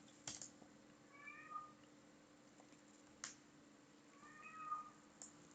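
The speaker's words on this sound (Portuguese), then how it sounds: "Gato miando." Two short cat meows, spaced a few seconds apart, played as a sound effect from a C# console program, faint and clear with no talking.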